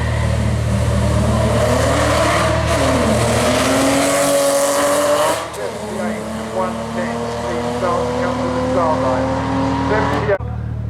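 A Porsche Boxster S at the Brighton Speed Trials, its engine howling loud and close with rising and falling revs, shifting up through the gears as it races past, while a commentator talks over it.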